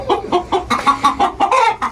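Aseel chickens cluck close by in a quick, steady series of short, nasal calls, about eight in under two seconds.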